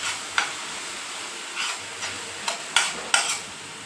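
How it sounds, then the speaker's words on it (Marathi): Garlic and green chili thecha sautéing with wet mung beans in a pan, a steady soft sizzle broken by several sharp bursts of stirring and scraping. "आता त्यात आपण जो लसूण मिरचीचा ठेचा करून घेतला होता तो टाकून घ्यायचा आणि हे दोघी व्यवस्थित आपल्याला आता परतून घ्यायचे"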